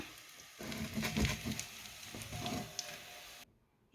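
Puttu kothu sizzles and patters as it fries golden brown in a pan, a steady close crackle with a few stirring bumps, then cutting off abruptly into near silence at the end.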